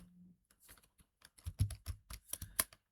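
Short burst of keystrokes on a computer keyboard, clicks speeding up into a quick close run, crisp and fairly quiet with nothing else heard.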